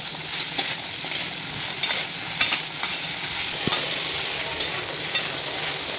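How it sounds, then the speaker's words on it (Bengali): Potatoes frying with spices in a pan until reddened, a steady close sizzle with occasional light clicks and scrapes of stirring, no voices. "তো আলুটাকে লাল লাল করে একটু ভেজে নিতে হবে মশলার সাথে"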